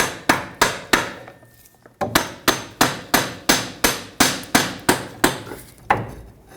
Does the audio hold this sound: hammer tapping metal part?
yes